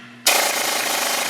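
Impact wrench hammering on stuck wheel bearing bolts of a 2007 Chevy Silverado, bursting in suddenly after a quiet moment and holding a loud, dense, continuous rattle to the end, close up.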